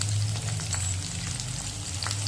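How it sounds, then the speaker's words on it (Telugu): Onion, green chili, curry leaves and potato fry in a pan for Mumbai street-style vada pav, giving a steady close sizzle that runs on without a break. "సేమ్ ఆలుగడ్డ మనం ఎట్లా ఫ్రై చేసుకుంటామో అదే విధంగా ఫ్రై చేసుకోవాలి"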